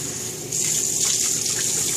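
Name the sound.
rinsing with tepid tap water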